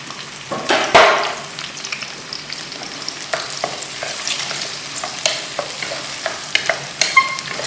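Onion frying in hot oil with mustard seeds in a pan: a steady sizzle with a loud burst as the onion goes in near the start, then scattered scraping stir strokes close by.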